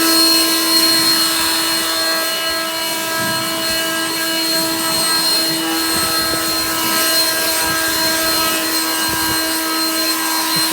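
A WORX leaf blower runs at full power, clearing debris out of house gutters. It makes a loud, steady whine with a constant tonal hum that dominates the whole stretch, close up and unbroken.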